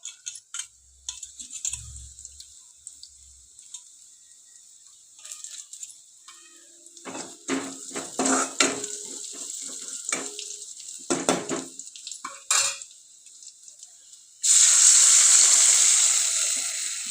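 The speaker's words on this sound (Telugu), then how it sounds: "నేను ఒక గ్లాసు నీళ్ళలో కొంచెం చింతపండు వేసి బాగా పిండుకున్నాను ఈ నీటిని ఇప్పుడు మనం ఈ తాలింపులో వేసేసుకుందాం" Tamarind water squeezed out in a glass is poured into a hot tempering for drumstick-leaf dal. Quiet crackles and clinks come first, then a sudden loud, sustained sizzle bursts up when the liquid hits the pan.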